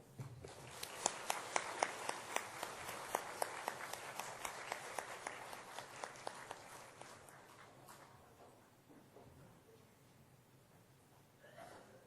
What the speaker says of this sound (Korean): 우리 나올 때 박수 한번 할까요?